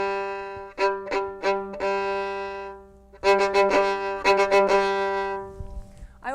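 A bowed string instrument plays slow off-the-string staccato notes, short bounced strokes in two separated groups with brief pauses between, each note ringing with rich harmonics, close and clear with no talking.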